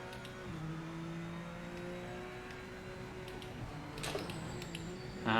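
A GT3 race car engine in the sim racing game Project Motor Racing drones steadily at sustained revs, a faint, even hum that ends in a brief rising rev and a short burst of noise.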